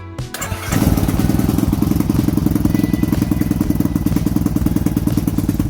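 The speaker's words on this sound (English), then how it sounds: "So we're gonna start off with a cold start on this one. Just gotta actually use the choke on it." A Lifan KP Mini 223 motorcycle with a 165FMM engine cold-starts on choke: a brief crank, then it catches and settles into a loud, close, steady rhythmic idle.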